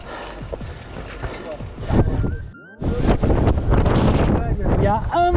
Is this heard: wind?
yes